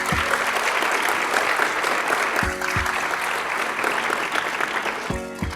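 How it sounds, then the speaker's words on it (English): Sustained audience applause at a school district Teacher of the Year awards show, dense and steady, with a few low thumps and tonal bursts breaking through. "Please give him a round of applause as he comes to the stage."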